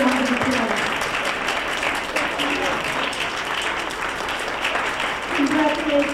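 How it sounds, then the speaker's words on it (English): Sustained audience applause fills a banquet hall at an award dinner as parents and guardians stand, steady dense clapping throughout with a voice briefly heard underneath. "please stand up. So we can give you a round of applause."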